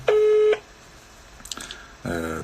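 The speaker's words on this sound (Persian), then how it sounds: "داریم زنگ میزنیم به خانم پروانه سلحشوری. خب متاسفانه رد کردم" Phone call tone as the call is rejected: a loud steady beep cut off after half a second, then a quiet gap with brief clicks before another tone returns at the end.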